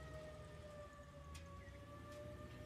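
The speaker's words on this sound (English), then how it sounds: "hearing these sirens in the background" Sirens wail faintly in the distance, a steady, drawn-out tone that holds for the whole stretch over low background noise.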